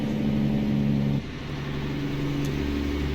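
A Mack Superliner truck engine in the game American Truck Simulator drones and revs steadily, its pitch dropping briefly as the gear shifts, then the engine hums on; no voices.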